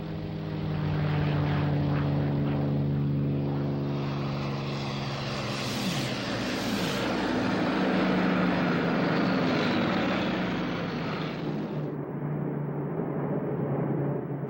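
Propeller-driven World War II aircraft, Luftwaffe bombers escorted by Messerschmitt 109 fighters, drone steadily overhead with a deep, continuous engine roar that swells and fades, loud and close, alone with no voices.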